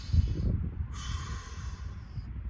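Heavy, close breathing with snorting inhales and airy hissing during a beginner cross training pulling exercise, rough bursts of breath through the nose and mouth repeating irregularly.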